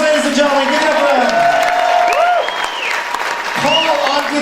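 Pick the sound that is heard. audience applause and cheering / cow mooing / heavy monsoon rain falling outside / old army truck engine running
audience applause and cheering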